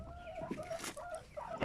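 Chickens cluck repeatedly inside a coop, a run of short, fairly close calls with no one talking.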